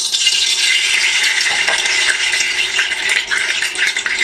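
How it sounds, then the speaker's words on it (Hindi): Half a cup of oil poured into an empty cooking pot, a steady broad hissing, splashing pour running loud and continuous throughout with no talk. "उसमें डाल देंगे हाफ कप ऑयल डाल देंगे।"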